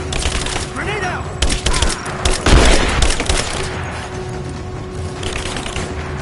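Heavy gunfire and explosions in Rise of the Tomb Raider, dense overlapping shots with a deep boom partway through, loud and continuous across the clip with faint voices underneath.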